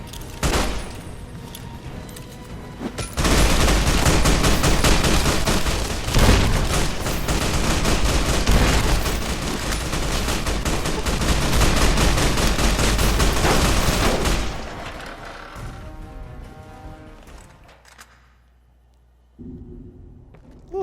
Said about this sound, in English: I should probably stop and actually shoot them, shouldn't I?